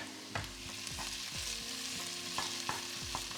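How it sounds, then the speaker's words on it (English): Tomato puree cooks down in a pan with a continuous close sizzle and bubbling, broken by repeated scraping stirs of a spoon against the pan, with no voices. "tomato puree can be quite bitter, so we're going to cook it down a bit"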